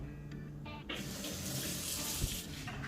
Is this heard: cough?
no